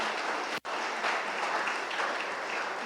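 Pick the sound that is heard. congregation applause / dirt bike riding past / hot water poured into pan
congregation applause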